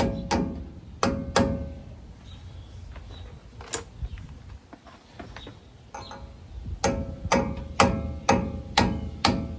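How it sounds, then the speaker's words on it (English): A brass hammer taps sharply on a wheel dust cap of a 1978 Chevrolet C10 pickup in short bursts, single strikes spaced apart, then a quick run of evenly timed knocks, close and crisp. "Fancy brass hammer."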